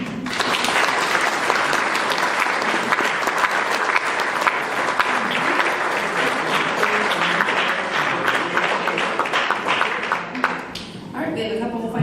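An audience at a public forum on a marijuana ban applauds loudly and steadily, sustained clapping from a crowd that tapers off at the very end.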